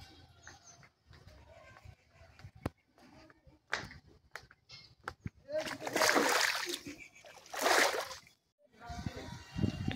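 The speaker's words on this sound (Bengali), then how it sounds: "এখানে আমরা পাতপড়া ধুয়ে নেবো" Leaf plates being rinsed outdoors at a temple compound, with bursts of splashing and sloshing water, two strong surges near the middle, amid scattered clatter and faint birds and poultry in the background.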